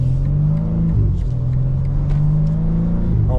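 A 900 hp BMW G80 M3 drives through tunnels late at night, its engine droning loud and steady with a sweeping pitch that dips and climbs again as the revs shift, heard close from inside, no talk.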